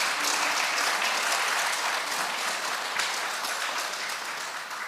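Audience applause at a youth debate battle during a Buddhist academic conference, a steady, dense clapping from a crowd that fills the room and holds for several seconds without any voices.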